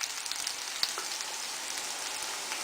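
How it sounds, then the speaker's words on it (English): Onions caramelizing in a frying pan during mujaddara cooking, a steady bright sizzle with faint crackles and a brief clink, continuous and close with no voices. "the onions have started becoming caramelized after about 15 minutes of frying."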